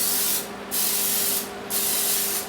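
Cooking spray hisses into an 8x8 baking pan in three steady bursts, each about a second long, with brief gaps between them, close and loud against faint kitchen background.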